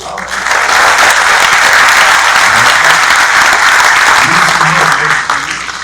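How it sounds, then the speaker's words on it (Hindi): A crowd breaks into loud, sustained applause at a drone taxi demonstration, steady clapping that swells and then fades near the end, with faint voices underneath. "जोरदार ताली वाली बजा के"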